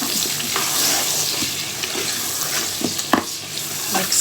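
Mutton pieces are stirred into browned onions in a pan, with a steady frying hiss and scattered scraping clinks from the spoon.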